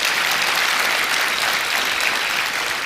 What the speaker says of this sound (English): Let us give a round of applause to the son of the soil